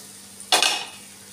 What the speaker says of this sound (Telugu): ఇప్పుడు మూత పెట్టుకుందాం.